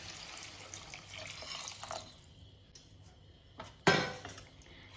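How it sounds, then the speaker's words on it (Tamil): Water is poured into a pan of chayote kuzhambu. Faint kitchen clinks come first, then a sudden splashing pour with a bright rush of liquid near the end. "இப்போ நம்ம வந்து தண்ணி சேர்த்துரும்"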